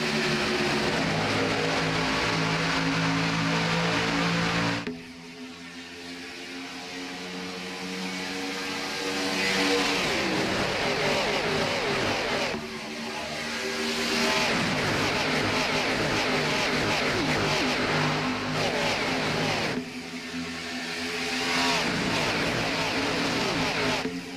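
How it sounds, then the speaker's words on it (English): Race cars roaring around Daytona International Speedway in a sim racing game, a dense, continuous engine drone that swells and dips as packs pass, with a few sharper shifts in pitch. "cars roaring to life here for the first time tonight at Daytona"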